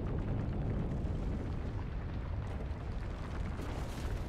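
Grenades exploding in the video game Volcanoids, heard as a steady, fairly quiet wash of rumbling blast noise that stays broad and continuous without sharp individual bangs.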